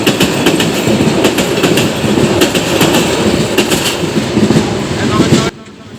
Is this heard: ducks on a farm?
no